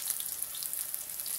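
Prawn fritters fry in hot oil with a steady, bright hissing sizzle, close and even throughout the short moment, with no talk.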